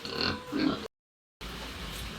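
Two short pig oinks and grunts close by, followed by a brief silence and then low snorting rumble.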